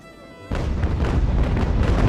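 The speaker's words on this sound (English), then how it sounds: "So the cannons have started their opening broadsides." Naval cannons fire broadsides in the Ultimate Admiral: Age of Sail game, a sudden loud booming blast after a quiet moment, followed by a sustained rumbling roll of overlapping shots.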